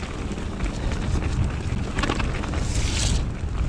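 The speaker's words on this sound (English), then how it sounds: "It's quite windy out here." Strong gusty wind roars across the microphone outdoors on a forest mountain-bike trail, a constant broadband buffeting with louder surges, and no talking.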